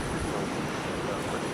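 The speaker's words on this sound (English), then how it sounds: "So lots of low-flying aircraft over runway 494." A low-flying jet passes over the runway at Minneapolis–St. Paul airport, a brief, loud, steady broadband engine roar with no voices.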